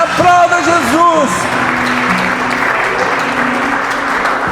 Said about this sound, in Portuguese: Aplauda o nome do Senhor, aplauda Jesus